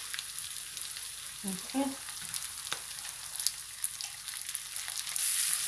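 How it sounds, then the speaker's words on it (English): Onions and garlic fry in a hot pan for chili con carne, giving a soft, continuous sizzle with a few crackles, while a voice briefly speaks. "my onions and garlic are cooking really, really good"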